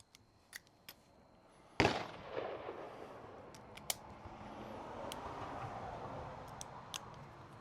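A single sharp gunshot at a steel target on a shooting range, one loud crack followed by a ringing, decaying tail, with a few faint clicks before and after.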